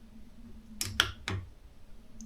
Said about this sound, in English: Alright, so we got the good old torque wrench going.